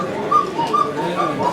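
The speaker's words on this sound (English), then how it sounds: "in the smallest clocks we have our little baby cuckoo bird" The smallest cuckoo clock calls with a high-pitched two-note cuckoo, repeated about three times in quick succession against a soft indoor background.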